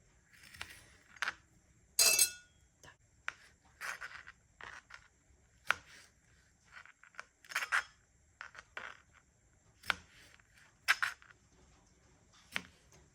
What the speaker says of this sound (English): Tomatoes, since these are already small, we're just going to cut them in half.